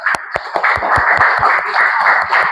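Seminar audience clapping together, loud and close, with a run of distinct claps over a steady crowd wash.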